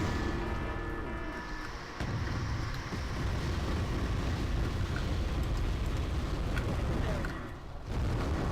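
Bombs exploding in the Wargame Airland Battle game at Fortress Oslo build into a loud, continuous rumbling barrage, briefly dropping off twice before surging back.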